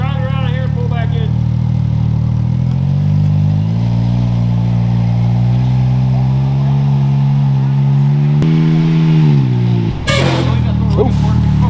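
A car driving around a lot and pulling back in, its engine humming steadily near the microphone with the pitch rising and falling as it moves, then a sharp clatter near the end.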